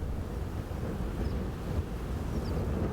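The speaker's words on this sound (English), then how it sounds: "The wind was vicious." Strong, steady wind buffets the microphone outdoors in southern Alberta on a cold, snowy day, a continuous low roaring rush with no pauses.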